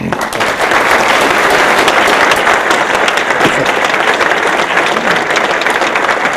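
A campus audience applauds to welcome Bill Ford at a leadership dialogue, a loud, continuous wash of clapping that fills the hall from start to finish.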